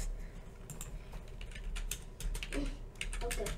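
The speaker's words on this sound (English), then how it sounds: "what is up with my typing today?" Rapid, uneven typing on a computer keyboard, a close run of light clicks with short pauses, while people chat nearby during an online game session.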